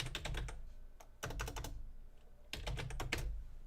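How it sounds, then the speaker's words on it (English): Quiet bursts of computer keyboard typing come in three short runs of rapid keystrokes separated by brief pauses, close and soft, with no one talking. "I'm going to type something else here."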